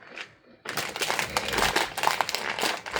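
Plastic packaging on a bag of rice chips crinkles loudly and continuously as it is pulled open, close up, after a brief quieter rustle at the start.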